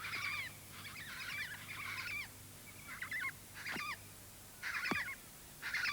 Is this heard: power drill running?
no